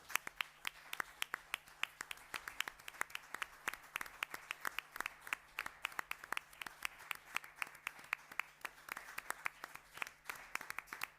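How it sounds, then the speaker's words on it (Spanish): Scattered applause from a small audience at the close of a talk on Sephardic identity in Spain and the Holocaust, individual claps distinct and steady for about eleven seconds. "les pido un aplauso para ellos"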